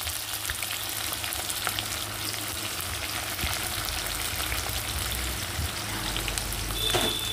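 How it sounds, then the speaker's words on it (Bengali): Onion added to a pan already frying garlic and green chillies: continuous close sizzling with crackles and occasional scraping stirs, a low hum beneath and a brief high tone near the end. "এই পর্যায়ে আমি পেঁয়াজটাও দিয়ে দেব।"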